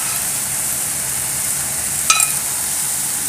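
Carrot halwa sizzles steadily in a pan as ghee goes in and is stirred, a constant loud frying hiss with a brief scrape of the spoon partway through.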